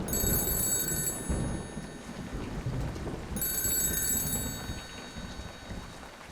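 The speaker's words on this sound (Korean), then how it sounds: "전화벨이 울리는 거예요." A telephone at a military guard post rings in two bursts with a gap between them, each shrill and bright, set against the steady hiss of falling rain.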